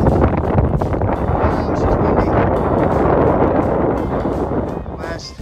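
Strong wind buffets the microphone on Sugarloaf Mountain's helipad summit, a loud continuous roar with gusty surges, and a few words are spoken briefly beneath it.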